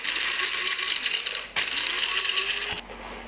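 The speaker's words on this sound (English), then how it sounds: "Abrasive properties will help grind up these spices." An electric grinder whirs and rattles as it grinds spices with coarse salt, making a close, steady gritty buzz for about three seconds with one brief dip and no talking.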